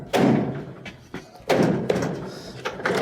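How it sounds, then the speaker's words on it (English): Two firm knocks with a hand on the corners of a dryer's control console, sharp hollow thumps with quieter taps between them, close by. "give a little knock on each corner to push it back"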